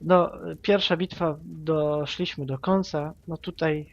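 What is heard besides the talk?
No distinct noise like a dog, phone or traffic.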